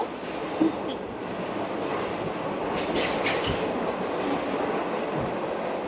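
Steady, loud rumble of a moving passenger train carriage in Jamaica with low thuds and a faint hiss, continuous throughout with no voices.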